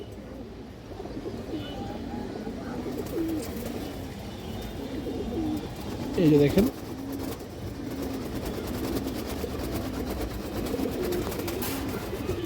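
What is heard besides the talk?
silver Bagha male pigeon cooing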